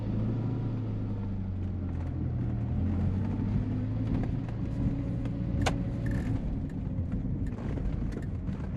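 A Chrysler Conquest TSi from the 1980s on the move, heard from inside as a steady low engine drone and road rumble, with faint rattles and clicks from the cabin.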